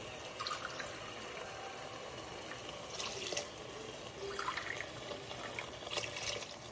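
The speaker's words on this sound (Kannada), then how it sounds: "1 ಲೋಟ ಅಕ್ಕಿಗೆ 2 ಲೋಟ ನೀರು ಹಾಕೋತಿದ್ದೀನಿ ನಾರ್ಮಲ್" Water pours into a cooking pot for rice, two cups of water to each cup of rice, for a tomato bath dish: a steady splashing stream with brief louder surges near the end, close and alone with no talk.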